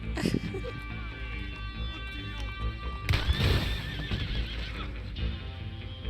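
A horse whinnies loudly alongside clopping hooves and other game sounds in Red Dead Redemption 2, with a voice speaking briefly over the action.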